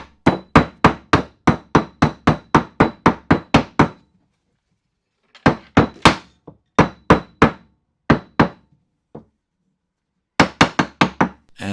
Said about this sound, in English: I like to use a brass mallet for this, or a ball peen hammer.